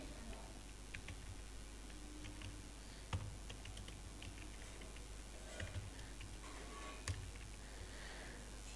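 Faint, sparse clicks of computer keyboard typing while working in Microsoft Excel, a few keystrokes standing out over a low steady background hum.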